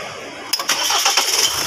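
A 2023 Ford Everest diesel engine fires up after a brief quiet moment, then settles into a close, steady running clatter with faint rhythmic ticking, no voices over it.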